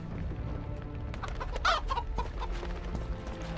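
A hen in The Witcher 2 gives a few short, close clucks, with a brief sharper squawk partway through, over steady in-game ambience.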